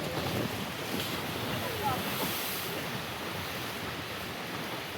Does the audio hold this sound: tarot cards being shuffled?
no